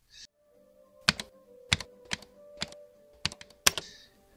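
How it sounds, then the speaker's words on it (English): Individual keys are struck one at a time on a Nintendo Family BASIC keyboard for the Famicom, each press a crisp, clacky click, spaced unevenly in a quiet room. "That's how a keyboard should sound."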